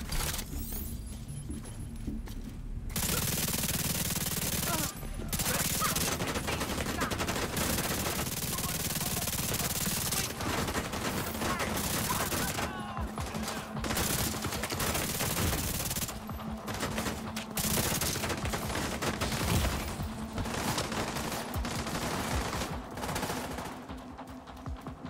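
Sustained gunfire in The Division 2, with dense bursts of rapid automatic shots and short pauses between volleys, loud and nearly continuous throughout.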